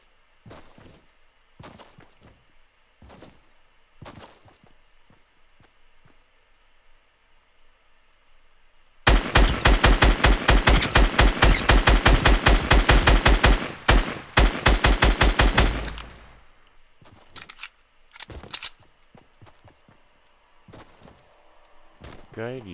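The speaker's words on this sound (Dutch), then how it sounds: "Ik hoor overal schoten." Rapid bursts of automatic gunfire in Fortnite's Tilted Towers crack loudly for several seconds, surrounded by sparse single shots and footsteps, while a voice speaks over parts of the scene.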